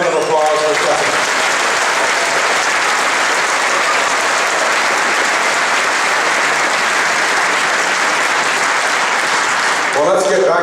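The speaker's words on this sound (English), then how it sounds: "let's give a big round of applause for Stephanie." An audience in a concert hall at a Tuba Christmas event gives sustained, loud applause for about ten seconds, a dense even roar of clapping with brief voice fragments at the start and end.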